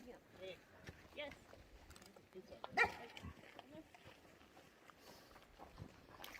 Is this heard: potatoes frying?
no